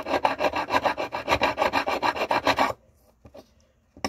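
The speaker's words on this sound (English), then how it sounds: "Files only cut in one direction, but you can go back and forth if you choose." A hand file rasps back and forth over a solder seam on silverware, a run of steady rhythmic strokes that stops abruptly partway through, followed by a few faint scrapes and taps.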